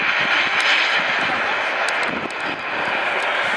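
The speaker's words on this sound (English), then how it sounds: "Watch the short takeoff roll and straight up to 30 degrees of pitch." An Airbus A400M with four Europrop TP400D6 turboprops at full takeoff power during an airshow display, a loud, steady, broadband roar that fills the whole stretch while a commentator talks over it.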